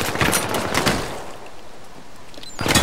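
Gunfire in the 2012 PC shooter Syndicate: a few loud, close bursts at the start and again at the end, with a rough, noisy lull between them.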